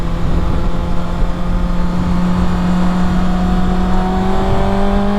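A 2023 Kawasaki Ninja ZX-6R motorcycle engine revving loud and close, its pitch rising steadily through the throttle with a strong continuous drone and no talk.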